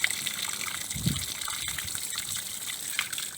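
Brown water gushes and splashes out while a Dongfeng 244 tractor's cooling system is flushed, a continuous close liquid pour with a few stronger spurts.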